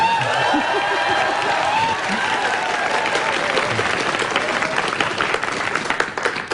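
A studio audience at a live public broadcast of a morning news talk show applauds in a dense, sustained round of clapping with faint crowd murmur, loud and steady before easing off at the end.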